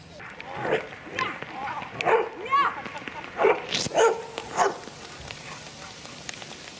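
Search-and-rescue training dogs barking in a series of sharp, separated barks at moderate distance, spaced irregularly over several seconds, with speech running underneath.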